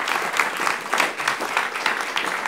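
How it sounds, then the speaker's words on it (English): A modest audience at a local heritage talk applauds the speaker, individual claps audible in a brisk, slightly uneven patter, moderately loud and steady, with no speech over it. "a round of applause for Sean"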